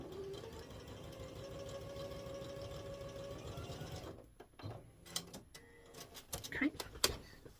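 A sewing machine hums with a steady, rapid mechanical rhythm while stitching binding on a jelly-roll quilt-as-you-go table runner, then stops after about four seconds, leaving soft fabric handling and scattered clicks.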